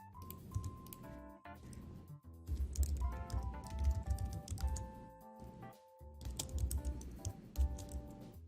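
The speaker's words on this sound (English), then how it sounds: "if I just type background and hit tab" Rapid, steady keyboard typing close by on a computer keyboard, clattering keystrokes running almost continuously in short bursts with brief pauses, alone with no talk.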